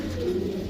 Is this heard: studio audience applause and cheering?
no